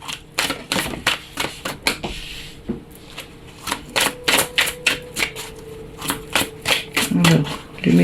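Tarot cards are shuffled and drawn close up, a rapid run of crisp flicks and slaps in uneven bursts, with a voice faintly talking underneath.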